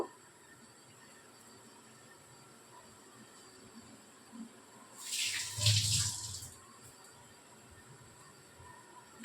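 Yogurt water pours into a pan for a gondhoraj rohu fish curry, a brief splashing gush of about two seconds, close and clear, after a quiet stretch.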